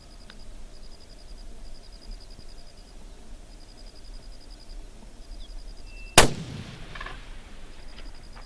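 A single loud, sharp rifle shot from a 300 Remington Ultra Mag fired at a 500-yard target cracks out suddenly, then a brief decaying echo, over faint birdsong and light outdoor ambience.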